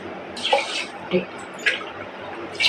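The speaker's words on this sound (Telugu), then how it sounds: "పది గ్లాసులు నీళ్ళు పోస్తున్నాను" Water poured into a pot of rice and dal while cooking, coming in several short splashing bursts spaced about a second apart, close and moderately loud.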